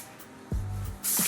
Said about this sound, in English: I like to take the hair, lift it, and just start spraying